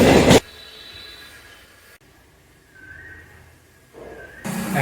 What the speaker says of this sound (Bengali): ট্রেন আসবে, গেট পড়েছে,